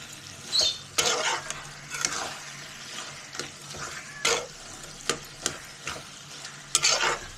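Prawns and banana flower are stirred in a pan, with repeated scraping strokes and a sizzle under them. The clip holds several distinct scrapes spread over the span.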